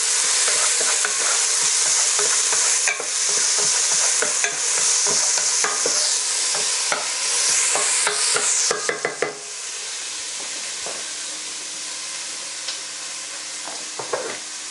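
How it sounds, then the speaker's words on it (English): Chilies and onions frying in a pan for a Gujarati-style butterbean and peanut curry, a loud steady sizzle with repeated stirring scrapes and clinks that quiets after a few seconds to a softer hiss. "Give that a quick stir."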